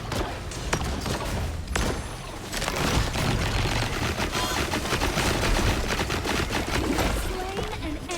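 Rapid, sustained machine gun fire in the Honor of Kings turret mode game, dense overlapping bursts of shots mixed with thuds and game effects, with faint in-game voices underneath.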